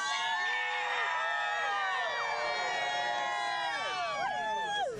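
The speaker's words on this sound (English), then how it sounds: "The crowd's getting really excited too." An excited crowd gathered for the 2017 solar eclipse cheers and shouts together, a dense, sustained wash of many voices with rising whoops and screams, loud and continuous throughout with speech mixed into the din.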